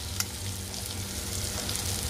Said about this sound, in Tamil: வெங்காயமும் பூண்டும் பேஸ்ட்டை போட்டுக்கலாம்